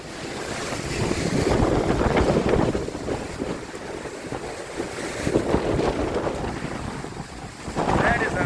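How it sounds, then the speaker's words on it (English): Strong hurricane wind buffets the microphone in long, loud roaring surges over about eight seconds. A voice is briefly audible near the end. "That's a pretty major gust right there."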